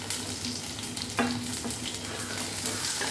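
Chopped onion frying with green chilies in a pan for a Kerala-style squid curry, giving a continuous close sizzle with a brief scrape of stirring partway through.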